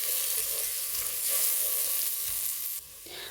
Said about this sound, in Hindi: पुदीना जो है वो काट के पत्ते इसमें डालने हैं और फिर इसको भी भून लेना है।